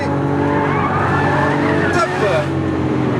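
A Lamborghini Aventador V12 roars loudly up through the revs on a track toward the finish line, a steady, close high-pitched engine howl with a brief shift in tone near the end and a voice speaking over it.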